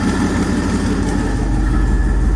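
A Chevrolet S10 pickup with a swapped 5.3 V8 runs after starting, giving a loud, steady, low rumbling idle close by with no talking.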